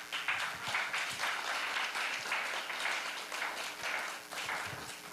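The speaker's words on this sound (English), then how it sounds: "A round of applause for His Grace Jai Gaurang Prabhu." Audience in a Hare Krishna temple applauding after a talk, a broad sustained round of clapping from many hands with small swells, heard from mid-distance and without speech.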